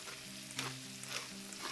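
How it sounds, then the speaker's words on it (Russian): Paprika frying with onion in a pan: a steady, close sizzle runs throughout, with brief scraping bursts of stirring breaking through at intervals. "Отправляем паприку в сковородку к луку"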